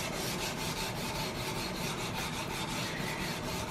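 File-backed sandpaper is drawn steadily along a steel gun part on a Gemmer Hawken rifle build, making a continuous, close, dry rasping scrape with a faint stroke rhythm and no voices.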